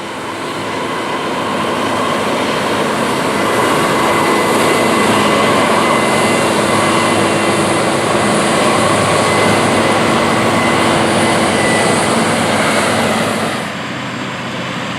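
A big farm tractor pulling a 9-shank Case IH 2500 inline ripper through a field for heavy fall tillage, a loud, steady engine drone and rumble that holds throughout, then drops slightly at the very end.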